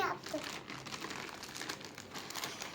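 A plastic shopping bag crinkles and rustles continuously at close range in a home, while a voice and other talking carry on underneath.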